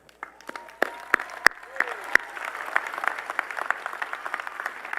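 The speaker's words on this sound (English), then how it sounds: "give yourself a round of applause because you got to celebrate yourself" A university speech audience breaks into applause, scattered claps rising into dense, steady clapping that carries on throughout, with voices mixed in.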